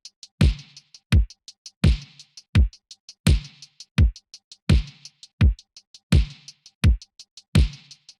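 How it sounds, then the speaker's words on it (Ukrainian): Synthwave drum pattern programmed in Ableton, with a punchy kick answered by a snare on a steady beat and quick hi-hat ticks between hits, loud and dry with no voices. "Все супер просто, прямо б'є кік, також йому відповідає снейр і хай-хети ось такі."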